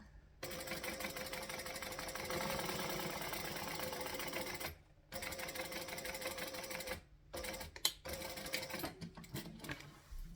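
A sewing machine stitches through several layers of fabric near a zipper pocket, a steady fast mechanical whirring run that pauses briefly a few times, then continues in shorter bursts close to the mic.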